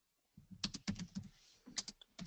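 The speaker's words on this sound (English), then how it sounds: "So I can hear someone typing away." Bursts of rapid typing on a computer keyboard, close and fairly quiet, with irregular clusters of key clicks and a short pause midway.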